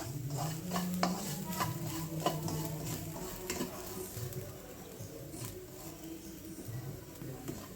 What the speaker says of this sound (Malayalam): നന്നായി ഒന്ന് വറുത്തെടുക്കണം ആ തേങ്ങയുടെ വെള്ളമയം ഒക്കെ ഒന്ന് പറ്റി വരണം